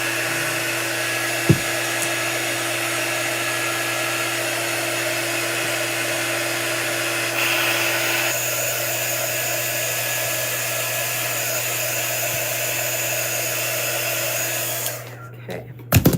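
A hair dryer runs continuously at close range, a loud steady whirring drone drying an MDF craft piece, then switches off near the end.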